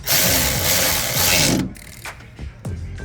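Truck battery hold-down being tightened, loud continuous ratcheting for about a second and a half, then a few scattered metallic clicks and knocks up close.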